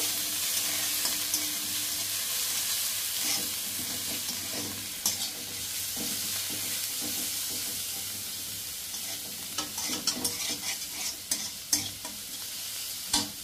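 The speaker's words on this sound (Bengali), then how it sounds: "সেগুলো দিয়ে আমি একটু নাড়াচাড়া করব" Boiled, drained peepal leaves tossed in a pan over a gas flame, a low continuous sizzle beneath intermittent scraping stirs that grow busier and sharper toward the end, close and fairly quiet, no talking.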